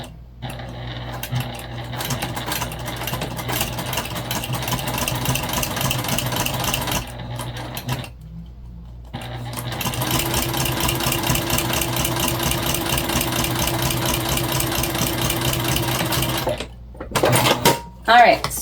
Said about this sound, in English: We're going to top stitch. So make sure we have a crisp edge there.